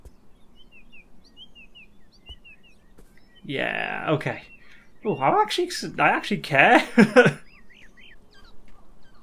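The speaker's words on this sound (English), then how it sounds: "Birds." Faint bird chirps from the video game Beyond Eyes sound in short scattered tweets under a person speaking.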